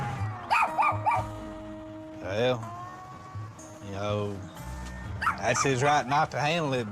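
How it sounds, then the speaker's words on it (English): Dogs bark in short yips and bow-wow bursts at a rural home, interleaved with and partly under a man's conversational speech throughout. "but dog's gonna bark."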